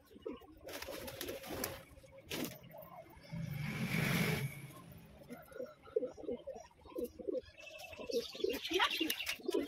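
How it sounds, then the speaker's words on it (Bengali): Pigeons coo outdoors in soft, repeated throaty rolls, fairly close and quiet, with a brief rustle or flutter in the middle and faint chirps near the end. "এদিকে বাইরে পায়রাগুলি রয়েছে, বাইরের দিকে যাবো।"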